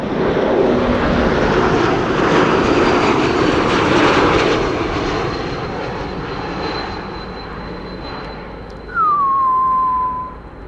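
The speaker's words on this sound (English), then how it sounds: "This is an E2 Embraer 195 and listen to the whistle once the airplane has passed by." An Embraer E195-E2 jet airliner roars past close by on arrival at Amsterdam Schiphol in windy conditions, its rumble fading, then a high whistle rises briefly and slides down in pitch.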